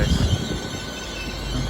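A Great Western Railway train rumbles through Didcot Parkway station on the Great Western Main Line, a close, heavy low rumble with a faint high wheel squeal above it.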